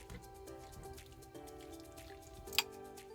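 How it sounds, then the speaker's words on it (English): Slow-cooked Italian beef being shredded inside a crock pot gives soft, wet squishing and pulling sounds, faint and close, with a sharper clink near the end. "So I'm just going to shred it in here,"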